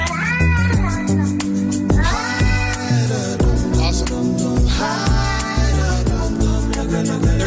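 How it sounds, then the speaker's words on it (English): A musician's cat warbling and meowing, set to music as a song: repeated pitched meows and trills ride over a loud, steady backing track of drums and melody. "A musician took his cat's warbling and turned it into a song."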